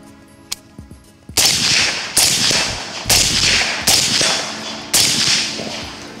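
A suppressed AR-15 rifle on gas setting 4 fires five loud, sharp shots spaced roughly a second apart, each crack followed by a short decaying tail.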